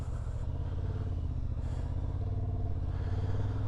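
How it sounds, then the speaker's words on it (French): A Honda 750 motorcycle with E-Clutch pulls away under steady throttle. Its engine drones and builds gradually, heard from on board and fairly muted. "Là, j'ai juste à accélérer et la moto avance toute seule."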